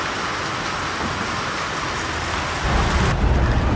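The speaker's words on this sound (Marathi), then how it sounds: "खूप पाऊस आलेला आहे" Dense, steady downpour of heavy rain hissing on surfaces, growing louder and deeper near the end with a low rumble.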